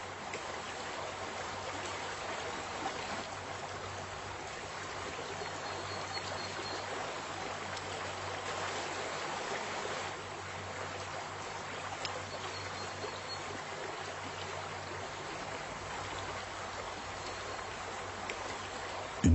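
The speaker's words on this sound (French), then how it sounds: "La vipère cherche à traverser la rivière, mais le courant est très fort." Strong river current rushing steadily, a broad continuous flow of water with a low rumble underneath, even and unbroken throughout with no voices.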